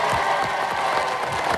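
Studio audience on a French TV game show gives a short burst of steady applause, dense and continuous across the whole moment with faint crowd noise mixed in.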